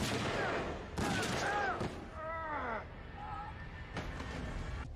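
Gunfire erupts in a tense scene from The Vampire Diaries, with several sharp shots ringing out among whistling, ricochet-like tones and rumbling background noise.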